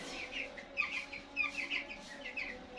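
Chicks kept at home peep in a steady run of short, high chirps. The calls are close and fairly loud and come one after another, with no talking over them.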